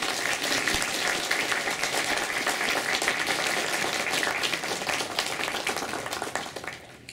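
Warm applause from an indoor audience at a community integration event greets the director, dense continuous clapping held at a steady level for several seconds before thinning out at the very end.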